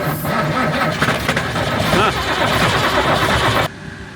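AEC Routemaster London bus diesel engine running on brake cleaner with the throttle floored, a loud, rough, steady roar with uneven firing from only some cylinders, continuing for several seconds before abruptly dropping in level.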